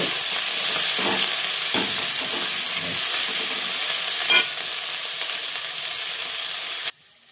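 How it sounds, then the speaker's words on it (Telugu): Onions fry in a pan with a steady, loud sizzle and occasional stirring scrapes, continuing without pause before cutting off abruptly near the end. "ఇక ఇప్పుడైతే ఉల్లిగడ్డ వేగిపోయింది మంచిగా"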